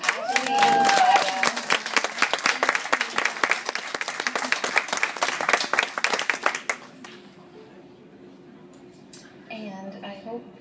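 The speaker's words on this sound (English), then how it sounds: "please give a huge round of applause for the beautiful couple, Ashley and Clara." Audience applauding a couple, loud sustained clapping for about seven seconds that then fades out, with voices heard at the start and end.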